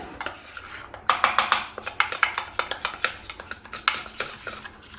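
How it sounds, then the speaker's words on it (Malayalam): A spoon stirring a gram flour face pack in a bowl, producing quick repeated scraping clinks and taps close by, with no talking. "അപ്പം നമുക്കിത് നന്നായിട്ടൊന്ന് മിക്സാക്കി എടുക്കാം"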